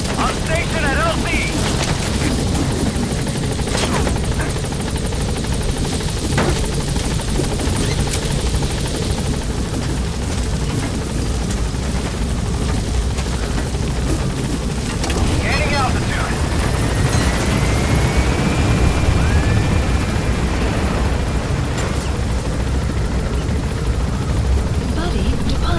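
Pequod helicopter arriving at a landing zone in Metal Gear Solid V: The Phantom Pain, a loud continuous rotor roar close by, with scattered booms and gunfire-like bursts and radio voices talking over it.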